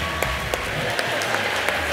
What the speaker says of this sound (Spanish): Les pido, por favor, un fuerte aplauso para mi gallo, Estevita.